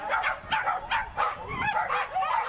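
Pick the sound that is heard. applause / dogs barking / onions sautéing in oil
dogs barking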